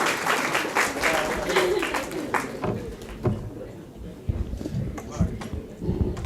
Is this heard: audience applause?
yes